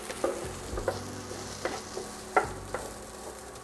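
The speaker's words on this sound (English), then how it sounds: "Next, we're gonna add our garlic, and we're gonna let this cook for another minute." Garlic cooks in a pan for chorizo-stuffed cubanelle peppers: a soft, steady sizzle with a low hum and a few sharp clicks of stirring at irregular intervals.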